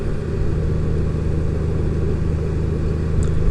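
A 2018 Honda Goldwing with a DCT gearbox cruises steadily, its engine giving a continuous, even low drone close up without any obvious revving, and no talking is heard over it.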